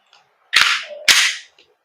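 Two sharp gas blowback shots from a WE Glock 17 Gen 5 airsoft pistol, about half a second apart, each a loud crack followed by a hissing tail of gas, with no talk.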